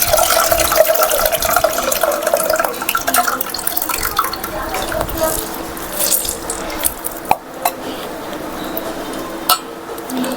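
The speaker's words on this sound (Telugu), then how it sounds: "ఒక 2 సార్లు కలిపి పోసుకున్నాను కదా ఈ చింతపండు రసాన్ని" Tamarind juice is poured and stirred in a kitchen, a close, splashing stream of liquid with sloshing and a few sharp knocks of a vessel, a voice speaking intermittently.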